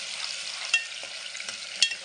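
Ground onion and tomato paste sautéing in a pan for a spicy crab curry: a steady close hiss of frying with a few sharp scraping clicks from stirring.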